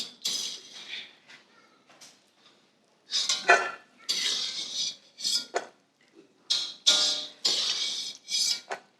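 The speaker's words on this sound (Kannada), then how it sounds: "ತುಪ್ಪ ಕಾದಿದೆ. ಈಗ ಗೋಡಂಬಿ ಹಾಕಿ ಸ್ವಲ್ಪ ಬ್ರೌನ್ ಬಣ್ಣಕ್ಕೆ, ಅಂದರೆ ಕಂದು ಬಣ್ಣಕ್ಕೆ ತಿರುಗುವವರೆಗೆ ಸ್ವಲ್ಪ ಹುರಿದುಕೊಳ್ತೇನೆ." Cashews roast in hot ghee while being stirred in a pan, with repeated bursts of clinking and scraping against the metal separated by short quiet gaps; no one speaks.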